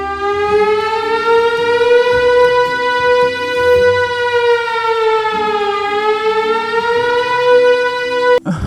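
Cartoon siren announcing Ramadan: a single long, steady wailing tone that dips slightly in pitch midway and rises again, loud and continuous, with faint low background sounds underneath.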